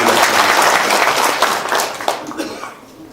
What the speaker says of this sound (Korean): 박수를 한 번 더 보내주시기